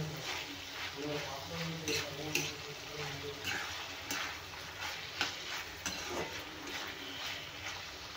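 Masala being stirred into eggplant frying in a pan, with spoon scrapes and stirring over a steady sizzle, close by and moderately loud throughout.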